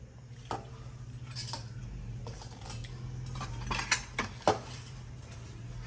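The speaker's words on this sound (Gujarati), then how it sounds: "ચલો પેલા નાખી દઈએ મમરા, એની ઉપર ચવાણું, એની ઉપર સિંગદાણા," Puffed rice, chavanu and peanuts are tipped into a bowl for bhel, giving a few light rattling, clattering bursts of dry pieces over a steady low background hum, near and fairly quiet.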